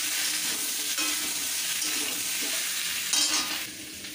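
Potatoes frying in oil in a wok, a steady bright sizzle with scraping stir strokes and a louder spatter near the end, with no voices.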